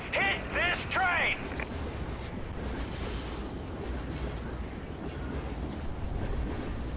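A train rolls steadily through a Call of Duty: Ghosts mission, a continuous low rumble with faint rattling and mechanical creaks, preceded by a few short electronic beeps.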